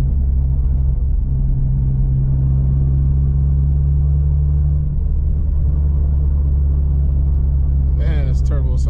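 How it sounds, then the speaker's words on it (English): Turbocharged ninth-generation Honda Civic Si heard from inside the car on a night drive: a steady, loud low engine drone and road rumble fill the whole stretch, with a few brief higher chirps right at the end. "Man, this turbo sounds amazing."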